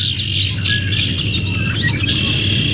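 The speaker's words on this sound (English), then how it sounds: "We'll explore the birds making appearances in your backyard as the seasons change in Vermont." Backyard birds in Vermont chirp in a busy, overlapping chorus of high tweets and calls over a steady low background hum, with no talking.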